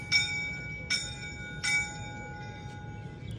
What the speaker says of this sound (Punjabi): ਰੇਲ ਦੀ ਘੰਟੀ ਸੁਣੋ